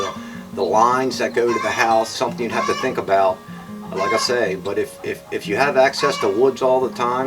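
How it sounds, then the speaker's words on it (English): Homestead chickens cluck and squawk in the background, scattered throughout while someone talks steadily over them in the foreground. "sorry about the chicken noise, I think somebody laid an egg."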